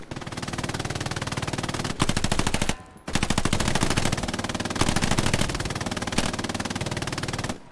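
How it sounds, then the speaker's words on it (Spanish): Sustained rapid machine gun (MG) fire in Hell Let Loose, long loud bursts with a brief pause in the middle, close and dense, no talking. "MG barriendo el trigal"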